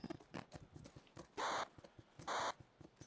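Horse hooves clip-clopping in The Last of Us Part I, a quiet irregular run of hoof strikes, broken by two short loud bursts of noise.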